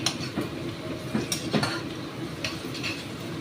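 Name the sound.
stirring onion with asafoetida and ginger in a pan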